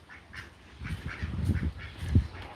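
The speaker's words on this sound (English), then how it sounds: "Ducks everywhere." A flock of ducks quacking at an animal park in South Africa, a busy overlapping chorus of repeated quacks close by, building in loudness toward the end.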